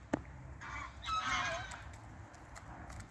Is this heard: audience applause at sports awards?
no